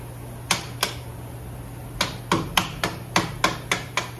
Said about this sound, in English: We have a little screwdriver. See if we can get an angle to just punch it out.